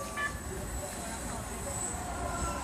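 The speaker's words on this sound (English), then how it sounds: "And this is the metro." A Los Angeles metro train passes nearby with a continuous rumbling rattle of wheels on track and faint high squeals, steady in loudness across the moment.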